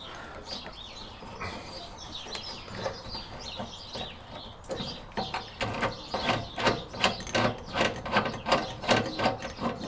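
A ratchet loosens a retained nut under the engine of a classic Fiat 500, giving a run of quick, faint clicks that speed up and grow more regular toward the end.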